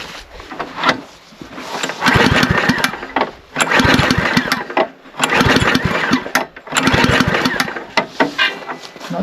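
A small engine with water in the carburetor is cranked repeatedly but fails to start, giving several loud bursts of pull-start cranking and sputtering separated by brief pauses, close up.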